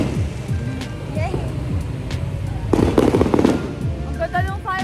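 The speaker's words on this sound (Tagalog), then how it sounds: "Ang ganda ng fireworks sa malapit." Nearby fireworks pop and crackle in scattered bursts, with a denser cluster of bangs in the middle, heard outdoors amid background chatter and crowd noise.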